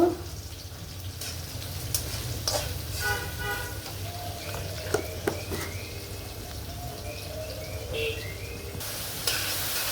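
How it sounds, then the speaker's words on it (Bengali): Onion frying in oil in a pan for a hilsa fish curry with raw papaya, giving a steady low sizzle with light stirring clinks and scattered faint background chirps and household sounds, no talk. "এখন আমি পেঁয়াজটি ভালো করে ভাজবো।"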